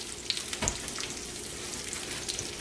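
Butter melting in a hot pan for a jerk salmon sauce with lemon juice gives a steady, low sizzle and fizz, with a brief soft clatter near the start and no one speaking.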